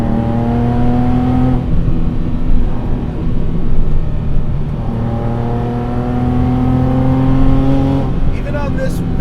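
A wide-body Porsche Cayman with a naturally aspirated 4.2-liter engine making 400 wheel horsepower drives on tarmac, its engine droning steadily close by, with the pitch climbing through two rising pulls under continuous road noise.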